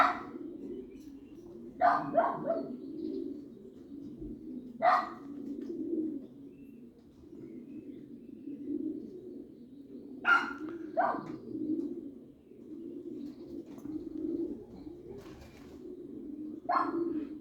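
Soft, low cooing from young pigeons continues throughout, with occasional brief higher chirps and calls rising above it, fairly close and quiet.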